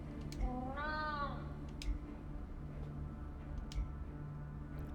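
A kitten in the Moonscars video game gives a single clear meow, rising then falling, close and moderate, amid a low ambient hum and a few faint ticks, with no speech.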